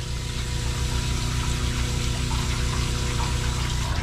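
Water runs steadily into a tub being filled for a dog bath, a constant gushing rush with a low mechanical hum underneath, close and unbroken, with no talking.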